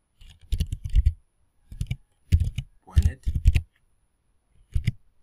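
Bursts of quick typing on a computer keyboard entering a web address, several short clusters of close, crisp key clicks separated by pauses.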